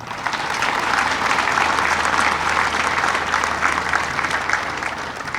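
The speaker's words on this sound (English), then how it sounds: "Please recognize them with your applause." Sustained audience applause fills the space at a grid storage facility dedication ceremony, a steady dense wash of many hands clapping at even loudness throughout with no voices over it.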